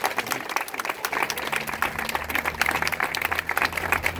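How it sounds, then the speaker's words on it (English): An audience applauds a newly welcomed school staff member during a mayor's remarks on green schools, a brief, steady wash of clapping at moderate level with a faint murmur of crowd underneath. "Let's give her a round of applause"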